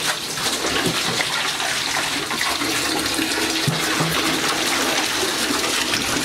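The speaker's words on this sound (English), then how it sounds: "So I'm just going to give this a rinse a bit here" Water runs steadily and loudly from a tap as a plastic egg incubator part is rinsed, a continuous gushing splash with small shifts as the part moves in the stream.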